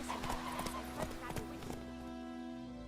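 Roach, Geralt's horse in The Witcher 3 video game, clip-clops along a road in a quick run of hoofbeats that slows and fades, over low game music with a spoken line.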